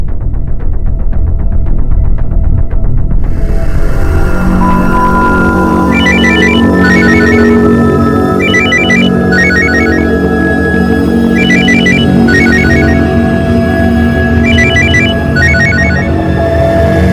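A phone ringtone rings indoors in repeated short electronic bursts over a steady low hum and dense background sound, several rings spaced a couple of seconds apart.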